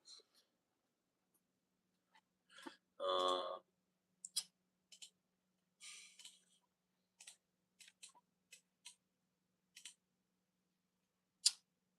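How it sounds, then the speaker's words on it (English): Clicky computer keyboard typing, heard as sparse, quiet isolated clicks and short bursts spread across a near-silent room, with one louder rustling thump early on. "my keyboard is very clicky for some reason"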